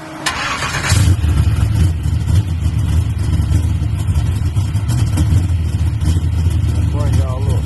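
A Chevy box car engine cranks briefly, catches, then rumbles and revs steadily at close range, a loud low drone with a voice speaking over it.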